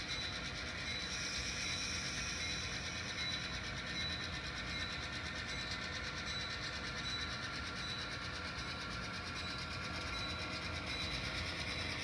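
An N scale model train runs on a track fitted with Peco Electrofrog turnouts, giving a faint, steady rolling hum with a light rattle that stays even and continuous, with no talking.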